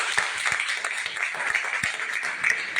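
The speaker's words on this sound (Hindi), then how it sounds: "ताली होनी चाहिए इनके लिए।" Audience applause at a Tiens network marketing weekly meeting, a steady wash of many hands clapping at moderate distance, dense and continuous for a few seconds with scattered sharper claps.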